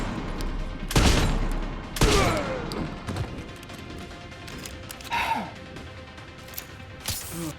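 Gunfire in the horror game Resident Evil Requiem: a few loud, close shots ring out among rapid bursts and scattered impacts, followed by quieter crashes and gasps from the player character.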